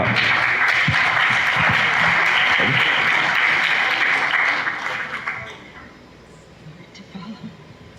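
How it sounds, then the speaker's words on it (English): Loud, sustained applause fills a room at an International Human Rights Day commemoration before thinning out abruptly, leaving a few lingering claps and a quiet murmur of voices. "another round of applause for Nate"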